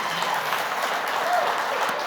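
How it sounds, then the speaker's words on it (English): Applause from an audience for a participant named Forrest, a brief, even patter of clapping in a large room, with faint voices mixed in underneath. "let's give Forrest a round of applause here"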